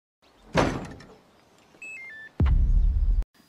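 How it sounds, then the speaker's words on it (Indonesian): A gate slides shut with a heavy rolling thunk, a short electronic chime from an alarm sensor rings out with a few descending tones, and then a deeper rumbling clunk follows as the gate settles closed. "Saat menutup pintu gerbangnya, alarm sensor itu membunyikan deringnya."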